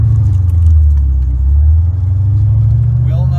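A 1984 Corvette with a 4+3 transmission driving in first gear, a loud, close, low engine drone that holds steady, with someone speaking over it.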